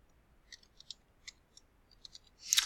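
Light, scattered key taps on a computer keyboard, a few faint crisp clicks spread irregularly across a few seconds, ending in a louder clatter. No talking.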